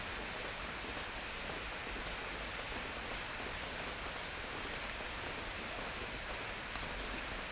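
Steady rain falls outside a home in Thailand's Isan region, making a constant, even hiss of drops on surfaces with no voices.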